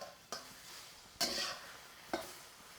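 Egg omelette sizzles softly in a wok, punctuated by three sharp stirring scrapes at regular intervals, with no voices.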